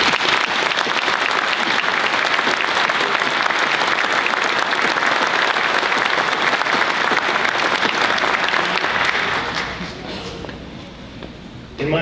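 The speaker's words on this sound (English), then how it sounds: "a round of applause" Dense, sustained applause from a large audience at a Marine Corps University academic awards ceremony, loud and steady for about nine seconds before tapering off to scattered claps.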